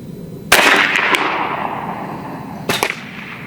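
A B&W Bin Tac M50 PCP air rifle firing 320-grain slugs at an outdoor range: two loud, sharp cracks about two seconds apart, each with a short ringing tail, no talk.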